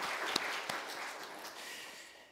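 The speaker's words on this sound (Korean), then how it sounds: "하나님 앞에 우리 감사의 박수를 돌리겠습니다." A church congregation gives a round of applause during a Sunday worship service. The clapping is soft and somewhat distant, with a couple of sharper claps early on, and it fades gradually toward the end.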